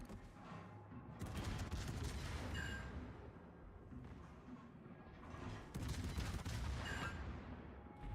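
Warship anti-aircraft guns in World of Warships fire in a dense, continuous rumbling barrage, with heavier bursts swelling twice and distant crackling throughout.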